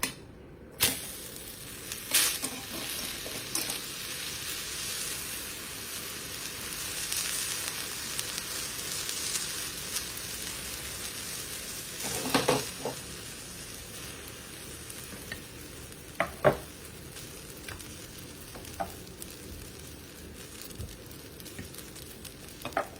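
A sourdough kulcha sizzles steadily on a hot pan after being flipped, a soft continuous fry with scattered light taps and scrapes, and no talking.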